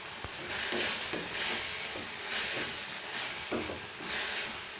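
Green chillies sautéing with roasted coriander and cumin in a pan, a steady close sizzle and hiss with soft stirring scrapes now and then, no talking.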